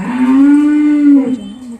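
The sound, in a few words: cow mooing during Diwali cow worship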